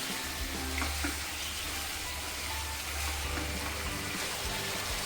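Chicken pieces with tomatoes fry in a pan, giving a steady close-up sizzle and crackle with occasional stirring scrapes and no talking.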